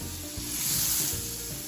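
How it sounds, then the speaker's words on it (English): Butter hitting a hot cast iron skillet gives a steady, close sizzle and hiss, swelling briefly as it is stirred around the pan, heard on its own without talking. "I've got a hot cast iron skillet here, and I'm gonna throw some butter in there."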